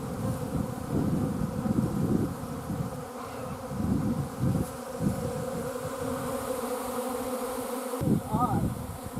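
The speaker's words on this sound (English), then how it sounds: "there's a lot of bees in there, but they don't seem as upset as this one next to them" A dense, steady buzzing of many honey bees around a hive, loud and close, with wind rumbling faintly underneath.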